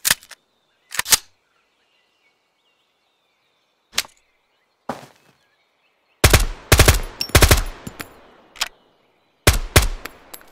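Weapon fire and an empty reload in the game Road to Vostok: a few isolated sharp shots and clicks, then bursts of loud rapid gunfire in quick clusters separated by brief silences.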